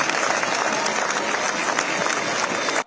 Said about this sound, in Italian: Standing ovation e lunghi applausi per i 2 capi di Stato.